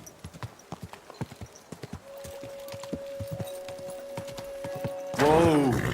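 Horse hooves clip-clopping in Kingdom Come: Deliverance II, a steady walking rhythm of close, crisp hoofbeats with a low held tone in the middle and a loud whinny at the end.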